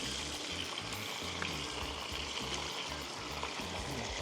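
Pork frying in a pan for pork knuckles with beans, a steady dense sizzle that holds loud and close for the whole stretch with no talk over it.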